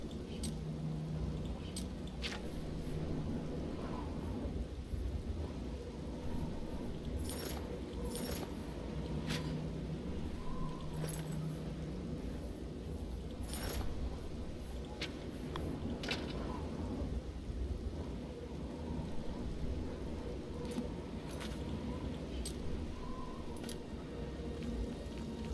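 Steady rain hisses throughout a magical thunderstorm spell called Storm Fury in the video game The Elder Scrolls IV: Oblivion, broken by sharp crackling lightning strikes and low rumbles at irregular intervals.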